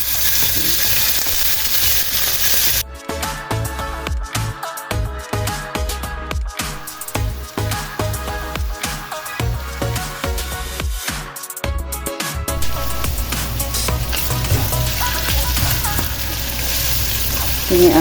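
Marinated beef fries in hot oil with a loud, continuous sizzle and crackle, punctuated by clattering stirring and scraping sounds, with occasional talking nearby.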